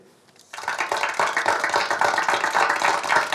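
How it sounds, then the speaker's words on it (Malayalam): Applause for a pupil in a school classroom starts abruptly after a brief quiet and swells into steady, dense clapping from many hands, close and loud. "എല്ലാവരും അമ്പാടിക്ക് ഒരു കയ്യടി കൊടുക്കുക"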